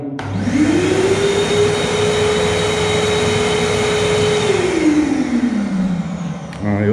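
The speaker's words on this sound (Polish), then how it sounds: "Odkurzacz po prostu działa na takiej połowie mocy." A workshop vacuum cleaner, part of a budget drywall-sanding kit, switches on, rises to a steady loud whine, runs at about half power, then winds down. A voice talks over it.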